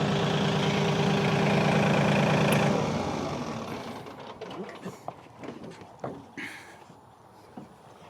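A TYM tractor engine runs with a steady low rumble that drops off after a few seconds, followed by scattered clanks and knocks at moderate distance.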